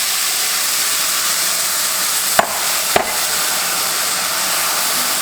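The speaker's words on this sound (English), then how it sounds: "that's assisting deglazing the pan also, and getting all that goodness off the bottom" Sauce mixture poured into a hot pan with garlic to deglaze it while making steamed pork bun filling, a loud steady hissing sizzle close up, with two sharp clinks from utensils partway through.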